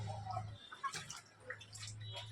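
Water splashing and dripping as a child bathes in two big basins up on a rooftop, light irregular splashes close by over a steady low hum.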